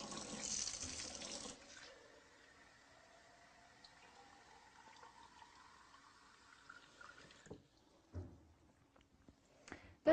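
Gravity-fed spring water from a hillside source runs from a tap at a country house, a loud gush at the start easing into a steady trickle, with a few small knocks near the end.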